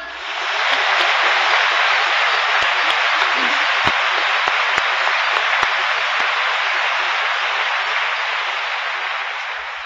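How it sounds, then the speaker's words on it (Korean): A church congregation bursts into sustained applause during a testimony service, a loud, dense wash of clapping that swells in and holds steady for nearly ten seconds with a few sharp individual claps poking through. "영광의 박수 한번 보냅시다"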